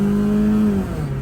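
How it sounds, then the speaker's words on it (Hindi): A car pulling hard at full throttle with kick-down, its engine note held strong and steady near the listener before the pitch shifts and eases toward the end. "अब चलती गाड़ी को पैर दे के देखते हैं, फुल पैर, हाँ जी पूरा ही किक डाउन"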